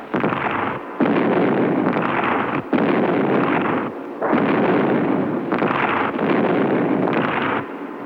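Explosions and artillery fire evoking the Spanish Civil War, a series of heavy, booming bursts and roaring blasts in quick succession with short gaps, loud and close, with no voices.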